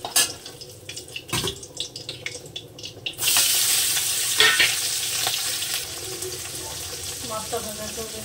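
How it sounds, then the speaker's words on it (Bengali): Small Tangra fish fry in a pan. Scraping and stirring comes first, then steady loud sizzling of the oil that carries on to the end, with occasional clinks. "বাদ বাকি মাছটা আমি এইভাবে সুন্দর করে ভেজে নেব।"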